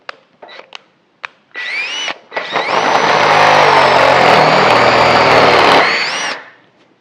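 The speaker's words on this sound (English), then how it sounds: "let's drill these 1/2-inch holes out" Power drill boring 1/2-inch holes in metal for a pipe notcher install in a garage: a few short taps and brief trigger bursts, then a loud sustained whine under load for about four seconds before spinning down.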